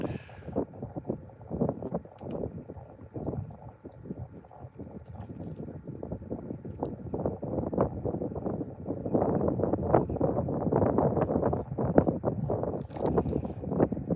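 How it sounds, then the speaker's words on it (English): Wind gusting over a fishing boat on open water, a steady rumbling buffet that dips briefly, then grows louder and denser through the second half. "This wind's blowing me in a circle."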